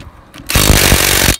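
A Makita power tool whirs loudly for about a second while a car tire is being changed, starting abruptly after a brief quiet and cutting off at the end.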